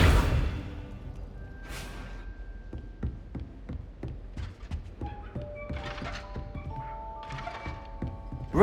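Accio summoning spell in Hogwarts Legacy, heard as a string of sharp thunks and taps with short whooshes, some close together, spread over several seconds with no talking.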